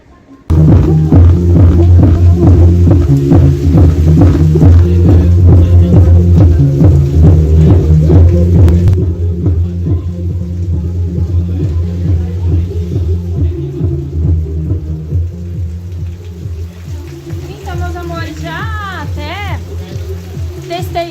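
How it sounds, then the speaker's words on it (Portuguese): A large loudspeaker box with a fault gives off a loud, steady low hum and throbbing drone, heaviest in the first nine seconds and then somewhat quieter, with a few faint chirps near the end. "o problema dessa caixa é que tá fazendo esse barulho aí"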